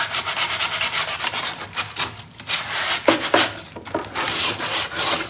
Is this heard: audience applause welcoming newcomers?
no